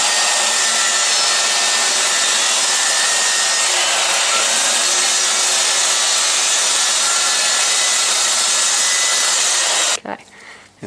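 A power saw with a laser guide cuts through MDF in one continuous, loud, close, rasping whine that runs almost ten seconds, then stops abruptly, leaving faint room noise.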